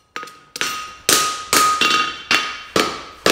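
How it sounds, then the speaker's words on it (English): A smith's hammer strikes a steel bar held in tongs while fullering a straight bar, giving six or seven loud, ringing metallic blows at an even, steady pace, heard close with short decays between strikes. "My hammer blow basically travels the same distance each time."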